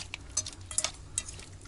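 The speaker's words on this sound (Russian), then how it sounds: "Мы их немножко сейчас просолим и перемешаем." Salted shrimp stirred in a pot in a taiga cabin kitchen, giving a few light scraping clinks and a soft metallic rattle, spaced irregularly and close at moderate volume.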